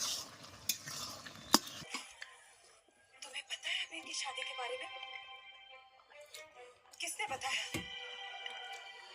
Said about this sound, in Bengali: একটু কষি নিই তারপরে লাউটা দেব